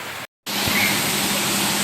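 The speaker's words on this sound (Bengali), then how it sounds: "দেখো কি পরিমাণে বৃষ্টি হইতেছে" Heavy rain pouring down outdoors, a dense, loud, unbroken wash of hiss after a brief cut-out near the start.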